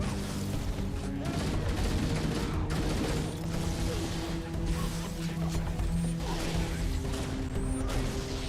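Loud, dense Halo video game battle with a grenade blast amid rattling gunfire, metallic mechanisms and crashing impacts, a continuous thick roar throughout.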